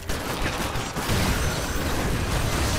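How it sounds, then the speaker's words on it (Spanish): An explosion in the video game Lara Croft and the Guardian of Light, with a loud burst and sustained rumbling blast noise that continues for several seconds, alone without talk. "Mierda, me ha dado una explosión."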